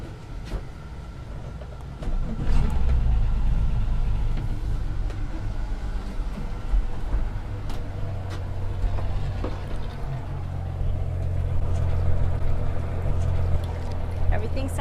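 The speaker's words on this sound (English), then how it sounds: "Now we're going to start the engine when the boat is cold to check for abnormal sounds" A cold-started engine on a 2023 Jeanneau NC 795 boat settles into a steady low rumble and hum, running continuously under some background noise.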